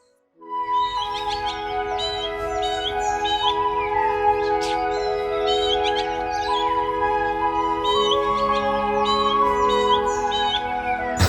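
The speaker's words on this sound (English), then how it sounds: "it is so nice to wake up to the sound of the birds" Birds sing through a quiet morning, with repeated chirps and warbling calls over a steady hum, heard continuously from a room where the sleeper has just woken up.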